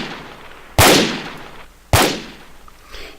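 Two loud, heavily limited gunshot effects about a second apart, each a flat-topped distorted blast with a long crushed decay and no clear attack, standing alone without talk.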